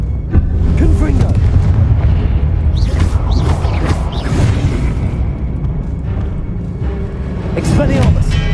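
A Confringo blasting spell in Hogwarts Legacy sets off heavy, rumbling explosions that boom repeatedly and loudly, layered with other combat effects and a voice casting spells over the din.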